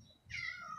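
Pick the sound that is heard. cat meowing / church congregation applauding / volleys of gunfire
cat meowing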